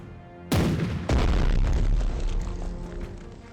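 Two loud, heavy video game cannon blasts from Strategic Mind: Fight For Freedom roughly half a second apart, each with a deep boom that rolls into a long rumbling tail.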